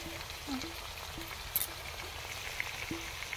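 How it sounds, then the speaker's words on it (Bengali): Chicken marinated in sour yogurt fries in oil in a pan, giving a faint, steady sizzle with a few soft pops and brief hums in the background. "তার মধ্যে টক দই দিয়ে সব কিছু দিয়ে ম্যারিনেট করে নিয়ে ফাইনালি কিন্তু চিকেনটা এবারে বসিয়ে দিয়েছে"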